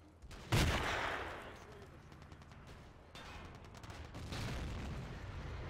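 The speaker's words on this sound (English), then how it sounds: "you hear the tank explosion" A tank explodes in the Battlefield 2 video game: a sudden heavy boom rolls out into a long rumbling tail, with further distant gunfire and blasts rumbling underneath.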